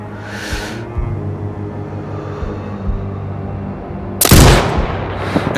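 Sniper rifle shots in the video game Sniper Ghost Warrior Contracts 2: a sharp crack near the start, then a low rumbling ambience, and a second loud, close gunshot blast near the end with a booming tail.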